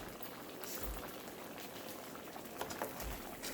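Stewed potatoes simmer in liquid for a beef tips and gravy dish, giving a steady, faint bubbling that runs through the whole stretch with a couple of soft low pops.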